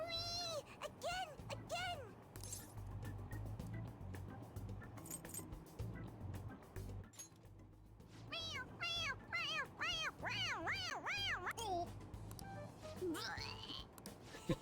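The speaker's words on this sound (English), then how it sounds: "It meows when you press on its head." A toy cat meows when its head is pressed, giving a quick series of high, wavering electronic meows over a low steady hum, with fainter clicks and handling sounds before them.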